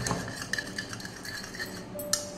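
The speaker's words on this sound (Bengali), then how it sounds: "অল্প জল মিশিয়ে এটা গুলে নেব" Vinegar, salt and water stirred together in a bowl with a spoon, giving light clinks and scraping against the dish in an irregular rhythm, close and fairly quiet, with no talking.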